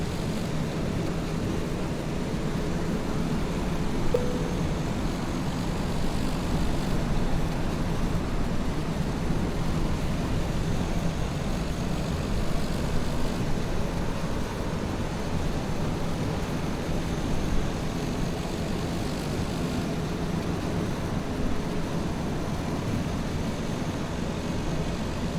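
Propeller airplane taxiing toward the runway, a continuous broadband engine and wind rumble that stays fairly level and steady throughout, with no talk.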